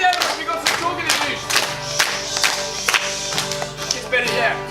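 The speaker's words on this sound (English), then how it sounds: "Give me the clapping!" Audience clapping along in time with a fast beat at a live entertainment show, steady rhythmic claps over loud music with shouting voices on top.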